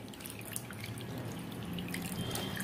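Water is poured steadily over soaked rice flour and jaggery in a bowl, a continuous close trickling and splashing that runs throughout without any talk.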